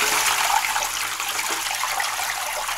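Steady rush of water poured from a bucket after soaking fish for salting, a continuous bright splashing stream with no pauses and no voices.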